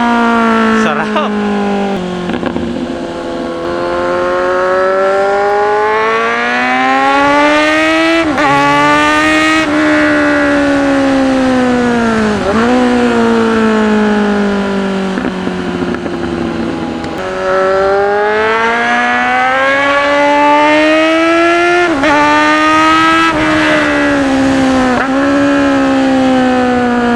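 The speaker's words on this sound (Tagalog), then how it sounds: "Rinig mo pa sa malayo yung bike?" A Kawasaki Z1000 motorcycle is ridden and revved hard, its loud, close engine tone climbing and falling in repeated sweeps throughout, with a few sharper rev peaks.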